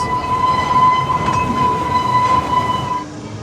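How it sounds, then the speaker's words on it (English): Pleasure Beach Express miniature train ride at Blackpool Pleasure Beach, heard from on board: a steady rolling rumble of wheels and carriages with a sustained tonal whine running throughout, fading slightly near the end. "Nice ride round on the Pleasure Beach Express"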